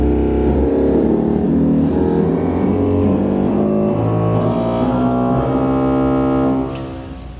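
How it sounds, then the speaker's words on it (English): Low notes on the 16-foot fagotto reed stop of a pipe organ, the organ's bassoon-like voice, sound as a loud, buzzy, sustained bass line that moves slowly through several pitches, heard alone before a brief fade. "Our other woodwind is the fagotto, which is the organ's take on the bassoon."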